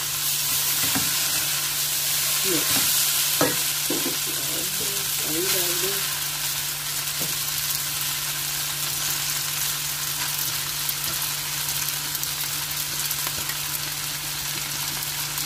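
Chicken and mixed vegetables fry in a pan in a steady, loud sizzle, with a low hum underneath and a few scraping clatters of stirring near the start, close and without speech.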